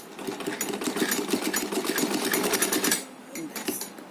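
A sewing machine runs in a fast, steady rattle, stitching a ribbon strip onto a small dress for a Laddu Gopal idol, then stops briefly and starts again for a shorter burst.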